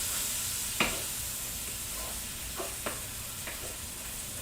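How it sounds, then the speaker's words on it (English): A pan of browned beef is deglazed with water, giving a soft steady hiss of sizzling with a few scraping stirs of a utensil, close but fairly quiet, with no speech. "We're going to deglaze the bottom of this pan with some water."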